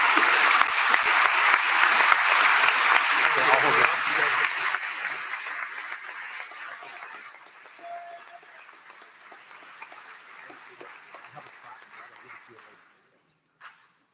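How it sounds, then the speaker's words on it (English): An audience at a graduation commencement claps for an award winner, dense applause that fades gradually to sparse claps and dies out near the end, with a dog barking and whimpering partway through and brief talk. "So round of applause for our Mother Teresa winner."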